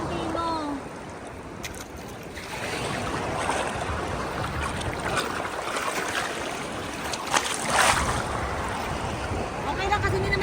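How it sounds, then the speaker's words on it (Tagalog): Sea waves wash and slosh around a small boat off Sulu on a calm day, a continuous broadband rush with gusty swells and splashes, while people talk and exclaim nearby. "Okay lang kasi hindi naman masyadong malakas yung alon."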